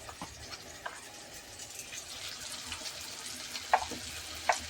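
Spoonfuls of garam masala fry in a pan with a soft, quiet sizzle, broken by a few small clicks and scrapes from stirring.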